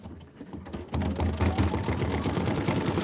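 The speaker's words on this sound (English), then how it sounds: "And then this is going to be my decorative stitching that goes around the outside border." Embroidery machine running steadily, stitching a decorative border around the outside edge of a quilt block, its rapid needle chatter starting up after a short quiet lead-in and continuing loud and close.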